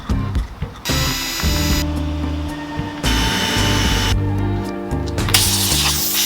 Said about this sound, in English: I'm gonna go ahead and put a couple of screws in to hold them in place